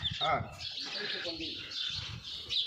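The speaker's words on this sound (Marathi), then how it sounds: "इथं पक्ष्यांचा किलबिलाट" Small birds chirp and twitter in an open outdoor setting with trees, their calls repeating on and off, with people's voices faintly mixed in.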